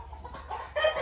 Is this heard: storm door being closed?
no